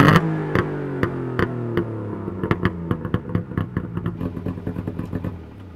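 A classic DKW car engine, the marque later renamed Audi, runs close by with a clattery, rhythmic pulsing beat that quickens and tightens into rapid firing before fading slightly.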